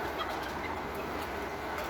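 Chickens fed on a farm, including a hungry laying hen, with soft fowl clucking and gobble-like calls over a steady outdoor background, faint and continuous.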